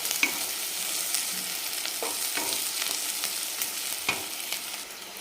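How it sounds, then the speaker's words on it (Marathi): Crushed ginger and garlic paste sautéing in oil in a kadhai, a bright steady sizzle with intermittent stirring clinks and scrapes, close and clear throughout. "तर याचं पण छान असा कच्चेपणा जाईपर्यंत आपल्याला तेलावर परतून घ्यायचं आहे याला"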